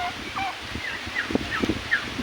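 Several short turkey gobbles and calls come in scattered bursts over a steady background hum, moderately near.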